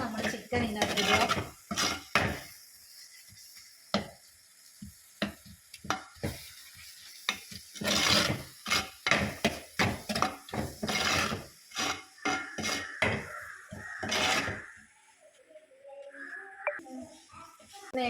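Chicken dropped into a hot pan with browned onions, followed by clattering stirring with a spoon against the pan and a light sizzle, in irregular bursts of scraping and knocking with pauses between.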